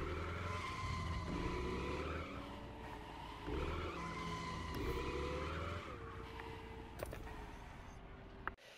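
Drifting car in the racing game The Crew Motorfest, its engine roaring and revving in steady waves while tires squeal almost continuously around a tight gymkhana course, with a sharp knock near the end.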